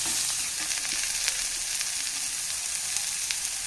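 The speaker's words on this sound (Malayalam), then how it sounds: "പച്ചമുളക് എരിവിനനുസരിച്ച് ചേർത്ത് കൊടുക്കാം നല്ലപോലെ തന്നെ വഴറ്റി എടുക്കാം" Shredded cabbage is sautéed with green chillies in a pan, giving a steady, close frying hiss with light stirring scrapes now and then. No one speaks.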